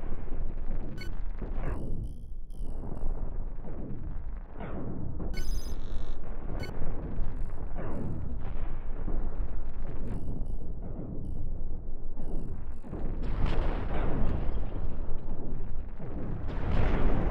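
Heavy cannons pound away in a Cosmoteer multiplayer space battle, a dense barrage of booming shots and explosions rumbling almost continuously, with sharp pops and impacts scattered through the din.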